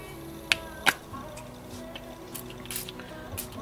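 Sea foam shimmer spray ink splattered onto a paper layout: two sharp, close spritz bursts followed by softer, quieter sprays and faint taps.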